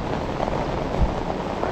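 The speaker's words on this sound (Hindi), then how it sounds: "बारिश बहुत तेज है इसलिए।" Heavy rain falls steadily on the trail from Ghangria to Govind Ghat, a dense, continuous hiss of loud, close downpour with a brief low thump partway through and no talking.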